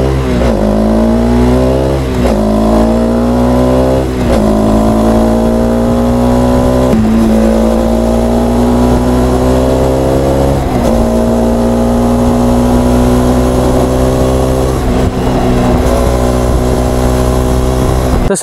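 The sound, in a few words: Hero Centennial motorcycle with Akrapovic exhaust revving to high RPM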